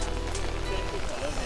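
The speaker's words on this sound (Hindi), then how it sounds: "बारिश बहुत तेज़ है" Steady heavy rain in Tokyo hisses across the whole clip, a dense wash of noise with a low rumble underneath.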